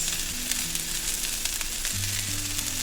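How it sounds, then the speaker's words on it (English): Carrots, onions and celery fry in hot neutral oil in a large skillet, giving a steady, close, even sizzle with a faint low hum underneath and no talking. "Once that was hot, I added the carrots, onions, and celery."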